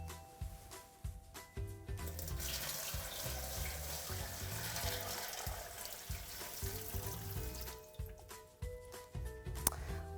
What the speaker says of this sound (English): you're going to fill with 2 inches of water